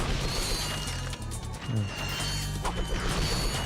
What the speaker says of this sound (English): I like that they give it a unique breaking sound